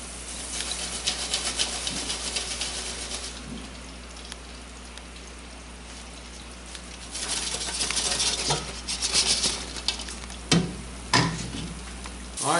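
Crappie fish frying in a deep fryer outdoors, a steady rain-like crackle and sizzle of hot oil, fairly faint, with a few sharper pops and clatters near the end.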